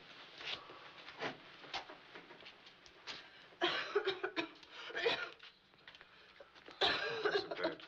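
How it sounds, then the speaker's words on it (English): A bad cough in a 1944 film scene comes as a run of harsh, raspy bursts in irregular fits, close and fairly quiet, with short breathy pauses between them and no clear speech. "That's a bad cough."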